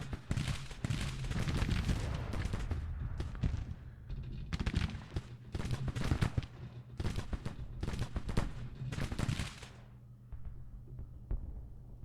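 Repeated musket volleys and cannon booms from a Civil War strategy game, ragged bursts of overlapping shots in clusters separated by short gaps, with a low rumbling tail as the firing fades.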